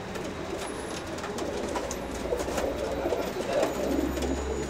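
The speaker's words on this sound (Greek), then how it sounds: "κοιτάξτε κάτι κεφαλάδικα περιστέρια που είχε, βουτάρες που λέμε" Pigeons coo softly in repeated low calls against a steady background murmur, with no talk.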